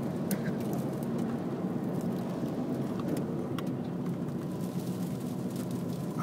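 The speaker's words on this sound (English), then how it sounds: "I'm getting hail now." Hail pelting a car in a storm while crossing the Skyway Bridge in Hamilton, Ontario, a dense, steady patter and rattle on the body and glass with a constant low road rumble beneath, no talking.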